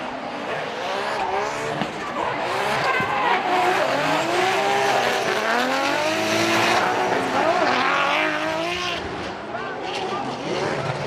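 An E92 BMW drift car at a Formula Drift Japan event sweeps through a slide with a loud, continuously revving engine and sustained tire squeal, its pitch rising and falling throughout.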